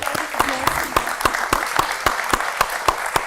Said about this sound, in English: May I have standing applause from the audience, please?